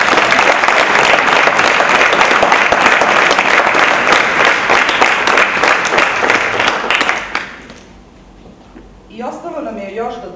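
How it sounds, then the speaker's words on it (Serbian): A theatre audience at a festival closing ceremony claps in loud, sustained applause for about seven seconds, then it fades and a voice begins speaking. "nagradimo ih jednim velikim aplauzom"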